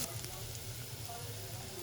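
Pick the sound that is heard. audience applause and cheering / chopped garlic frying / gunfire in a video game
chopped garlic frying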